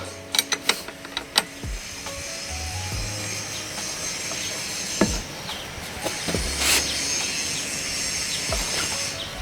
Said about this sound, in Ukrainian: Щоб відкрутити гайку, нам потрібний ключ на 22 та шестигранник на 7.